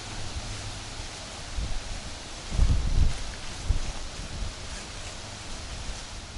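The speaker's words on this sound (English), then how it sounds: "It's really windy" Wind gusts across a rural campground at Paradise Lake, roaring into the microphone as a broad rushing noise that swells and buffets loudly in the middle before easing back.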